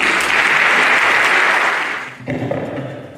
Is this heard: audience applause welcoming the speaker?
yes